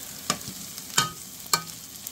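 Onions for a goat curry fry in a pan with a soft, steady sizzle. Three sharp scraping clacks of stirring land about half a second apart, close by and without talk.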